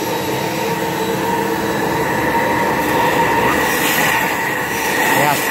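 A Powr Flite PFX1385 vacuum motor runs with a loud, steady, continuous roar, close by and unbroken from start to finish.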